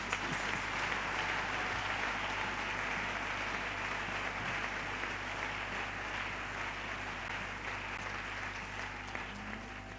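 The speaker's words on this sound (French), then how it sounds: "j'aimerais également que vous applaudissiez pour vous-même." A church congregation applauding at a sanctuary dedication service, a steady, dense wash of clapping from many hands that holds evenly throughout at a moderate distance.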